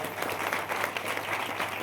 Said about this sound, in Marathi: एकदा जोरदार टाळ्यांचा कडकडाट करा